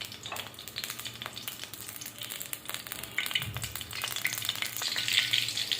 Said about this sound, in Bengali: বাগারটা দিয়ে দিব। 2টা শুকনো মরিচ দিয়ে দিব।